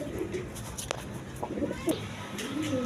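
Coloured pigeons of mixed breeds cooing in a cage, soft repeated low coos close by among faint rustles and background noise.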